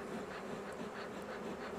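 Honey bees swarm around an opened Flow Hive during smoking, a steady, dense buzz holding at an even level throughout without pause.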